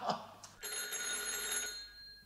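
Old-style telephone bell ringing in a radio-play scene, a bright sustained ring starting after a brief knock-like sound and fading out near the end, heard alone with no talk over it.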